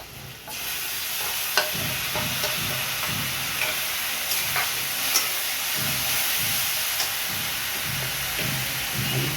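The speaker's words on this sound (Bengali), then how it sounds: "এবার আমি টমেটোটা দিয়ে দেবো আর দিয়ে দেবো মশলা, আদা, জিরে, ধনে আর কাঁচা লঙ্কা" Tomato, ginger, cumin, coriander and green chilli go into a frying pan of fried onion, raising a steady close sizzle with repeated stirring scrapes over it.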